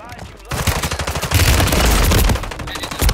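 Rapid automatic gunfire in Call of Duty Warzone Resurgence, dense bursts of loud shots that swell into a sustained fusillade before easing off, with a voice talking underneath.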